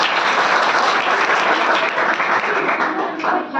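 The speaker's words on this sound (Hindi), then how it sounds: "बार जोरदार तालियां बजाएं।" Loud, enthusiastic clapping from a school audience at a mathematics day event, a dense continuous roar of hands that eases slightly toward the end.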